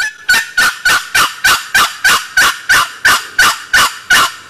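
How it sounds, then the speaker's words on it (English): Loud, raspy, throaty old-hen turkey yelps from a wooden box call, about a dozen evenly spaced notes in a steady rhythm, close and alone. "There's your old throaty hen yelp,"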